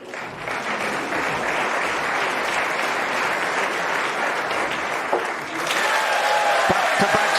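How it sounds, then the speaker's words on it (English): Crucible snooker crowd giving sustained, dense applause for a Ronnie O'Sullivan century at the World Championship, steady and loud throughout with a slight swell near the end. "just listen to this crucible crowd. They're loving every minute of this."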